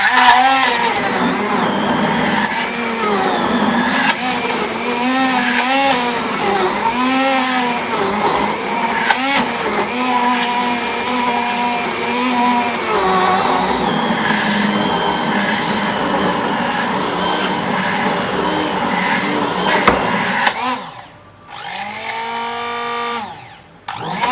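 A handheld blender whirs loudly and continuously while blending a smoothie, its motor pitch wavering as it works through the ingredients, then it cuts out briefly near the end before starting up again.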